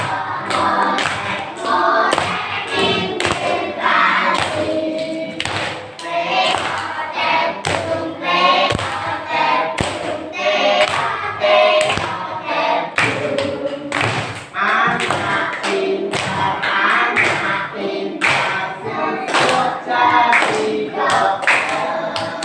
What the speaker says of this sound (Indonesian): mari kita menyanyi bersama-sama sambil tepuk tangan